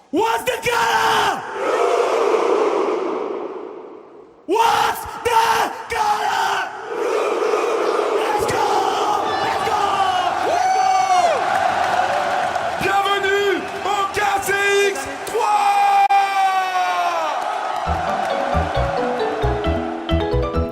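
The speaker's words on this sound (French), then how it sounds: "ce n'est pas le dernier match du PSG qui fait vibrer la foule, mais bien le KCX3, un événement e-sport incroyable où l'ambiance est électrique" A large crowd at the KCX3 e-sports event roars, whoops and chants loudly in continuous waves, with brief drops and swells, while announcers' voices and event sound effects cut through the noise.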